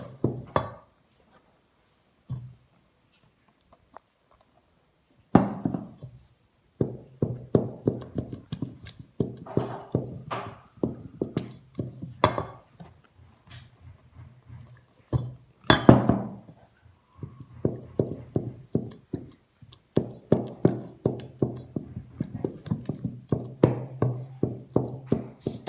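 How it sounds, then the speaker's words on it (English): Zeppole dough for Sardinian carnival fritters being stirred hard with flour in a bowl: a steady run of scraping, knocking strokes against the bowl, starting after a quiet pause and continuing rhythmically, close and fairly loud, with no talk. "Mixing very hardly for about 10 minutes."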